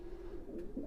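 Racing pigeons coo close by, a brief soft throaty hum that rises into a short burble.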